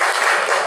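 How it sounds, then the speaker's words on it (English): A class group claps together for themselves, a short dense burst of applause with no voices. "please give applause to ourselves."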